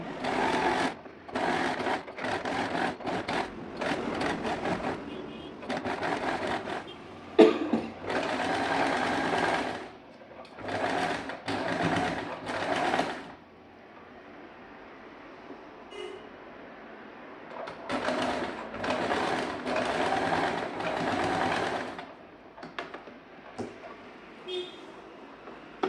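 A sewing machine with a single presser foot stitching a kurti seam, running in loud close bursts of rapid whirring separated by brief pauses, alone without talk.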